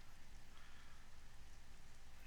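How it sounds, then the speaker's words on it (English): Heavy rain in the survival game Conan Exiles, a loud, steady dense downpour with constant patter filling the whole stretch and no talking. "that rain is loud"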